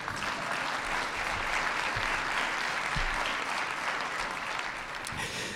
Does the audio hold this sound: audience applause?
yes